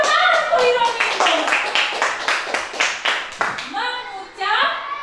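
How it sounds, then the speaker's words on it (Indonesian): A school class claps in a quick, steady rhythm for several seconds during a classroom lesson in Indonesia, close and lively, with children's voices mixed in near the end. "Bagus, tepuk tangan untuk Hirominto."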